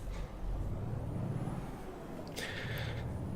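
Truck braking in Euro Truck Simulator 2, a steady engine and road rumble with a hissing air-brake burst arriving near the end.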